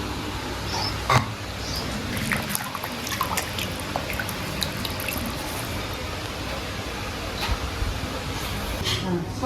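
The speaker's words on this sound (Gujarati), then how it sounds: "આને સારા પાણી ધોઈ નાખી" Water splashes and drips close up as colocasia leaves for Gujarati patra are swished and rinsed by hand in clean water, with occasional sharper sloshes and drips throughout.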